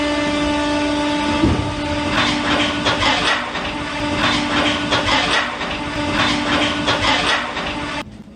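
Train running on rails with steady rolling rumble and rhythmic clickety-clack, a sustained tonal hum throughout, loud and continuous, no talk.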